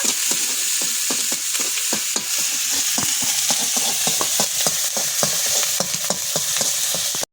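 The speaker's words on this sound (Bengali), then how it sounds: "দেখো সর্ষের তেলের মধ্যে কিন্তু এবার পেঁয়াজ দিয়ে দিলাম। পেঁয়াজটা একটু লাল লাল করে ভেজে নেব।" Onions frying in hot mustard oil, a steady loud sizzle with a rapid run of sharp stirring scrapes from a spatula throughout, no voices.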